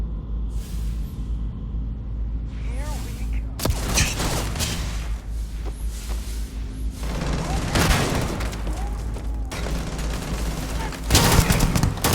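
Gunfire in the space game Starfield, bursts of shots and booming impacts over a steady low rumble, with dense loud volleys toward the end.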